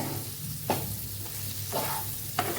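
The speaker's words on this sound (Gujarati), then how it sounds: "મરચાંને આપણે સરસ મસાલા સાથે સાતડી લીધા છે" Chilies sauté with spices in a pan for pickle, a steady low sizzle broken by three brief spoon stirs spaced roughly a second apart. There is no talking.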